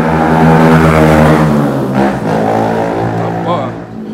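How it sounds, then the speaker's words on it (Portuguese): A motorcycle engine screams on a street in the centre of Itacaré, Bahia. It gives a loud, close, sustained whine with steady harmonic tones that shift slightly in pitch, while someone talks over it. "a moto tá gritando"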